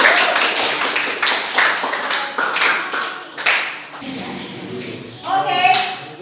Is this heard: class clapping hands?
yes